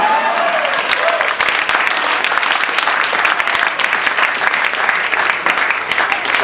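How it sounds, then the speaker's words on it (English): Guests at a wedding reception clap loudly for the groomsmen during a speech, a dense, continuous burst of applause filling the room throughout. "a quick round of applause, please, for all the lads"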